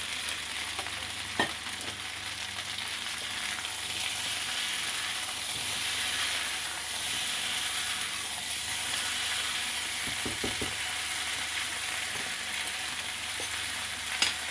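Pork meat for adobo sizzles loudly in a hot pan, a dense continuous frying hiss with a few brief clinks of utensils, no talking.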